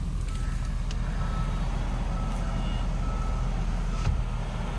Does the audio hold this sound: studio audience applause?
no